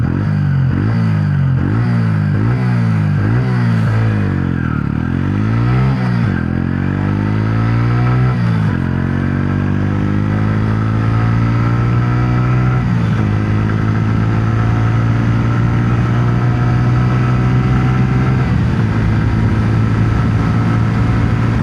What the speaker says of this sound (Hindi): ये जो राइड हो गया अभी, उसमें सुनते हैं बाइक का प्योर एग्जॉस्ट साउंड